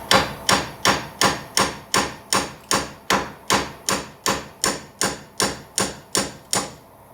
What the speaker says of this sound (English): you just take your hammer right on the top